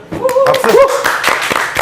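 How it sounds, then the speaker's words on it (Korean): A small audience at a talk session claps briefly, a few sharp hand claps mixed with voices and laughter close by, irregular and short rather than sustained applause. "박수 한번 주세요."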